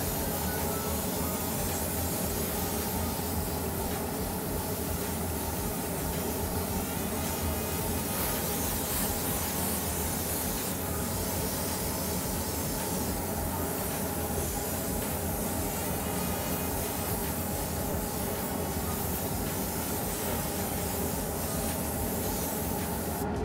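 A steady airbrush hiss sprays Pro-Line paint onto an RC car body, a continuous mid-level spray with slight variations as the trigger moves back and forth.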